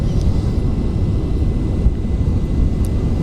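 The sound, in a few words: rocket engine at one-third thrust, from the video game Kerbal Space Program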